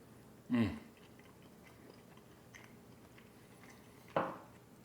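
A bite of sticky, sweet, charred barbecued pork chop, brined and cooked on a PK360 grill, is chewed in two short, close bursts of moist crunching with a quiet pause between them.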